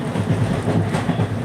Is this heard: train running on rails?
yes